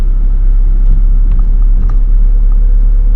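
A car drives along with a steady low rumble of engine and road noise heard from inside the cabin, constant and fairly loud with faint rattles and no talk.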